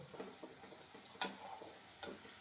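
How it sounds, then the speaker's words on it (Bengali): Masala frying in a pan is lightly stirred, giving a faint, steady sizzle broken by a few soft scrapes and clicks of the spoon. "আমি হালকা অল্প নেড়ে দিলাম চলো নেড়ে দিলাম হালকা অল্প"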